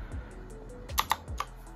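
Typing on a Fantech MaxFit108 MK855 mechanical gaming keyboard: a handful of crisp key clicks, two sharper strikes standing out, close and fairly quiet, with no voices.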